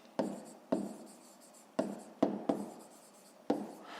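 Pen strokes on paper while writing out a grade 5 math solution: six sharp, close taps and scratches spaced irregularly, each fading quickly, in a quiet room.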